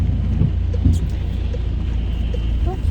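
Steady heavy rain pours down outdoors near an allotment plot and shed, a continuous broadband wash with low rumble underneath, holding at an even level throughout.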